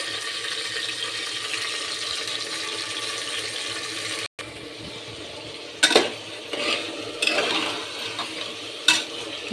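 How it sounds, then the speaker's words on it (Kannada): Hot oil sizzles steadily as tempering crackles for sprouted-bean sambar, with a few sharp bursts of spattering and utensil clinks near the end. "ಇವಾಗ ಒಗ್ಗರಣೆಗೆ ಹಾಕ್ತಾಯಿದ್ದೀನಿ"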